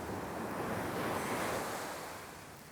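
Ocean surf washing onto a beach during shore fishing, a steady broad roar of breaking waves that swells and slowly eases, with some wind rush and no voices.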